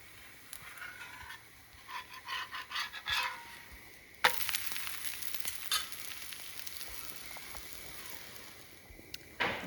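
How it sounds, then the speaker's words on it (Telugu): Quinoa dosa cooking on a hot pan, a faint steady sizzle with scraping and patting as it is handled, then a sharper burst of frying hiss that continues at low level, close and without talk. "దోస ఒక సైడ్ వేగిపోయింది. వేరే వైపుకి తిప్పుకోవాలి."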